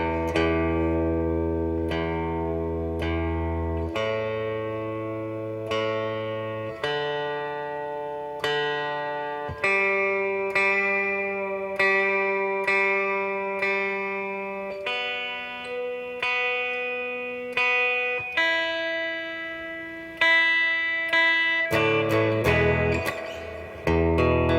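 An electric guitar is tuned before a live sound check, single plucked notes and strings ringing out and decaying in a steady sequence as the pitches settle, ending in a few strummed chords, with no talking.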